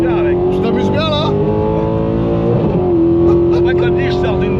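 A Mercedes C63 AMG driven hard on a race circuit gives a loud, sustained engine drone with a steady pitch. Voices talk over it throughout.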